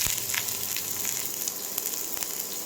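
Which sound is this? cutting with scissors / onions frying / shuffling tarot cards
onions frying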